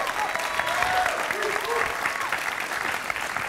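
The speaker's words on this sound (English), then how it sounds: "Give her a nice round of applause." A studio audience at a dating game show claps in a steady, dense wash throughout, with some tonal background music faintly underneath.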